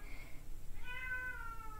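A pet cat gives one drawn-out meow, close and fairly soft, with a faint higher cry just before it and no talking.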